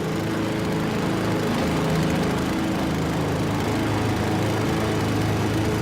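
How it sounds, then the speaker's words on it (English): Lawn mower engine running steadily and fairly close for the whole stretch, a continuous droning buzz with no pauses and no voices. "Dad's mowing again."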